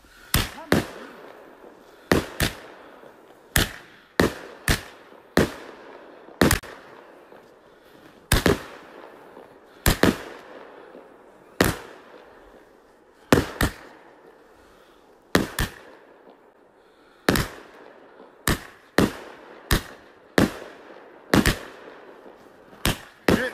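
A 25-shot fireworks battery fires on New Year's Eve, sharp loud booms bursting at a quick uneven rhythm, each followed by a short crackling tail, with little else heard between shots.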